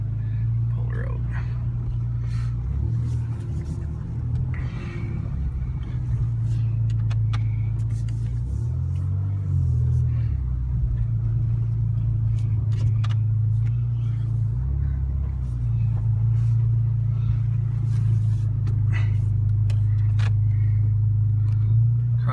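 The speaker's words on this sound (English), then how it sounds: "Let her run for 5 seconds." A car engine idles steadily in a body shop during paint prep, a constant low harmonic hum with slight shifts in pitch, heard close and continuous, with faint voices in the background.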